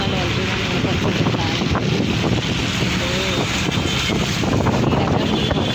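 Heavy rain pours outdoors on a road, a dense steady wash of noise with wind buffeting the microphone and traffic rumble beneath.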